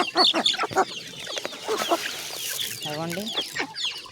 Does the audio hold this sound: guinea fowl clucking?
yes